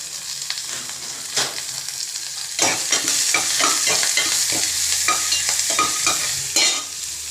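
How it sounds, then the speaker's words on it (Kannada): Onions fry in a pan with a steady bright sizzle, while a spoon scrapes and stirs them in repeated strokes, close and clear with no talking. "ಜಾಸ್ತಿ ಫ್ರೈ ಮಾಡೋಣ."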